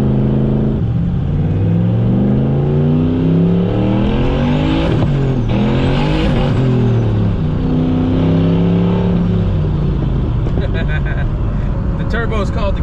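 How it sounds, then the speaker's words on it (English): A turbocharged car running on E85 accelerates hard into boost, its engine note sweeping upward through several gear pulls, loud and close from inside the cabin, ending with a whoosh and a flutter as the throttle lifts. "The turbo is called the giggle machine because it produces giggles every time you get into boost"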